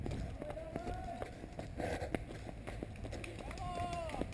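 Footsteps pound along in a steady rhythm at a parkrun in Gorzów Wielkopolski, with nearby people talking and calling out over the running.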